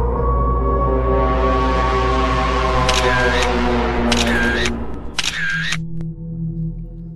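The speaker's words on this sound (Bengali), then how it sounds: "আমি কয়েকটা সেলফি তুলে নিই।" Three bursts of rapid camera shutter clicks from a phone taking selfies at a scenic spot, close and crisp, sounding over a steady low background drone with a brief gap between the first and the last two bursts.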